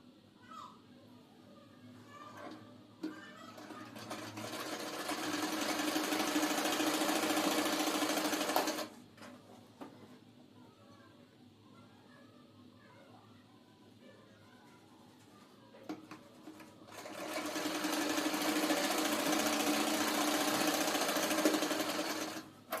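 Electric sewing machine stitching two pieces of a half-net collar blouse together, running in two long steady whirring bursts separated by a quieter pause with light handling noise.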